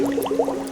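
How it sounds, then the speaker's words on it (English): A dog learning to swim blows bubbles in the water, a quick burst of gurgling, bubbling splutters that is close and lasts under a second. "And blow bubble."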